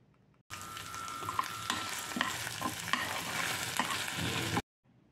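Salt and chili powder stirred into sizzling ingredients frying for masala egg fried rice: steady close frying hiss with repeated scraping stir strokes, stopping abruptly after about four seconds.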